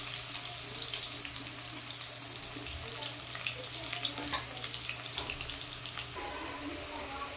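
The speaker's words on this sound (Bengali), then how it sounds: "আলুগুলোকে লাল করে ভেজে নেব।" Potatoes fry in hot oil for a Bengali mutton kosha, giving a steady, moderately loud sizzle with scattered crackles over a low continuous hum, with no talking.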